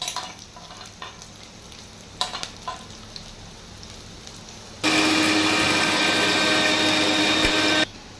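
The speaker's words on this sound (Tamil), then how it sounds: "வெங்காயம் வதங்கட்டும்." Small sambar onions and a large onion sauté in oil in a pan for mutton curry. Scattered stirring clicks and scrapes give way to a loud, steady sizzle lasting about three seconds before it cuts off.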